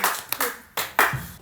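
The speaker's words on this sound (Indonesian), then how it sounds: "Ya, tepuk tangan dulu, tepuk tangan." A few people clap their hands in short, uneven bursts, close and lively, during a casual film-chat session.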